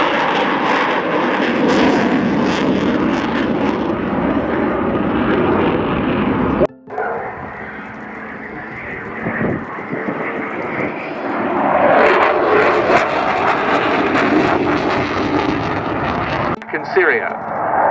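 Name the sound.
military jet aircraft flying at an airshow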